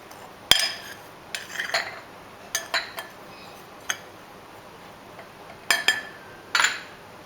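A spoon clinks and taps against a bowl while maida and rava, six tablespoons each, are gently mixed together for bottle gourd cutlets; sparse, light knocks and scrapes come close by over a quiet background.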